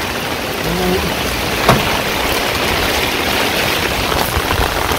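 Steady rain falls over a Bangladeshi village, a dense even hiss of drops on surfaces with a soft thump midway, continuous and fairly loud with no voices.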